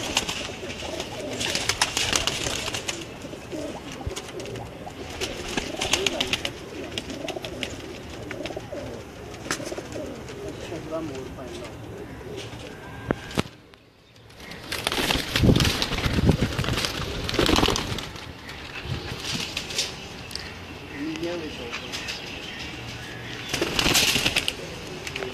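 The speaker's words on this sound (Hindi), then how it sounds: "ये जी आपको नीले कमगर कबूतर और जो कमगर कबूतर उस्ताद जब्बार चारा साहब तैयार किए हैं" Blue Kamgar pigeons coo in a loft, a steady stream of soft calls running almost without pause except for a brief drop, with occasional rustling and wing movement close by.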